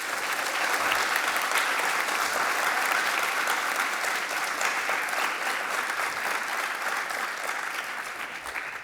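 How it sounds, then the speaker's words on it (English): A youth town hall audience on academic stress gives sustained applause for a panel, a thick, steady roar of many clapping hands lasting the whole stretch without a break. "Please join me in a round of applause for our esteemed panelists."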